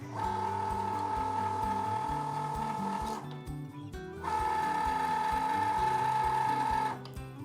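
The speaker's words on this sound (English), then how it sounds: "And then we're gonna load it right into the Cricut." A Cricut cutting machine runs over tattoo paper, producing a close, loud mechanical whir with rapid rhythmic clicking in two long bursts separated by a short pause, with no talking.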